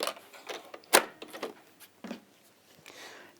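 Domestic sewing machine stitching a curved seam in fabric, with a guide foot steering the edge; short bursts of quiet mechanical needle clatter with brief pauses, close and fairly faint, no voices.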